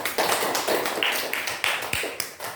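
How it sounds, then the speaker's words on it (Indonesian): A class of students claps in a school classroom, a run of quick, fairly loud overlapping claps lasting a few seconds, with no talk over it. "Bagus, tepuk tangan."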